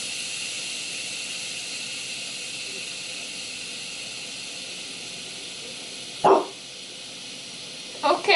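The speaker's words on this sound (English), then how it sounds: "barking at the pressure cooker or just a bark?" A dog gives two short barks near the end, close by, over a faint steady hiss from a pressure cooker releasing steam.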